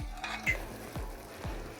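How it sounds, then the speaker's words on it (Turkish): A spoon scrapes rhythmically around a pot of sugar syrup on the stove, with soft regular swishes of liquid being stirred, close and fairly quiet; no talking. "Şerbetimizi ocağa aldıktan sonra ara ara karıştırıyor şekerimiz eriyeceye kadar"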